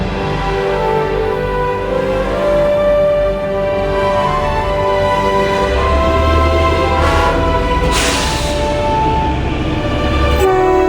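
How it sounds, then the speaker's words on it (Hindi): A Kalka–Shimla toy train in the Himachal hills sounds a loud, sustained horn at a crossing station, with the low rumble of the train building beneath it and a later horn blast. "शिमला की तरफ से आने वाली टॉय ट्रेन यहीं क्रॉस करती है"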